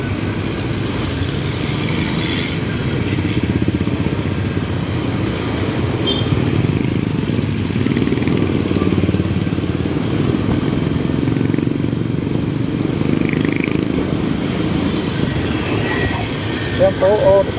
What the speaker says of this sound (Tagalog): dire-diretso na po yung mga sasakyan at walang pinipili, motor man, tricycle at mga four wheels ay diretso ang takbo dito